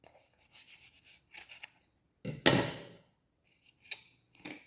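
Scissors snip through wool yarn folded for amigurumi dog fur, a few quiet snips followed by one louder, longer crisp cut, then more light snips close by.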